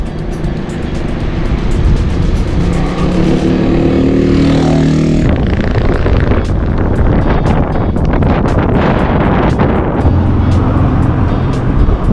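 Loud, steady headwind roar buffeting the microphone over a running motorcycle engine on a ride toward Lucena, continuous throughout with no talking.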